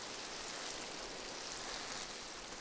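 Rain falls over a park in a French animated insect series, a steady, even hiss of drops with no pauses, faint and unbroken throughout.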